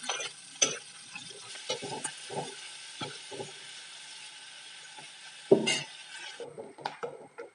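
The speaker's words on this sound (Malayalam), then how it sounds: "നമ്മൾ കടുക് വറുക്കാൻ വേണ്ടി ഒഴിച്ച എണ്ണയിൽ സവാള നന്നായിട്ട് വഴറ്റണം." Onion sautés over a raised flame in oil already used to fry mustard seeds, with green chillies in the pan; soft, sparse stirring scrapes sound over a quiet sizzle, and one louder clatter comes near the end.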